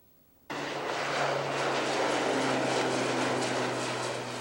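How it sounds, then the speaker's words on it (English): A lone crop-dusting plane roars over farm fields near East Grand Forks, Minnesota, its engine cutting in suddenly and holding a loud, steady drone with a low hum throughout. "The roaring sound of a lonely plane can be heard across farmers' fields in East Grand Forks, Minnesota."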